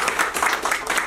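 Clapping from an audience at an evening stage event honouring a teacher in Tashkent, Uzbekistan: a steady, dense patter of many hands held evenly for about a second.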